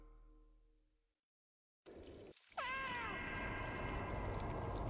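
A cat in the video game Stray gives a loud, drawn-out meow with wavering pitch after a short silence, over a steady background hum.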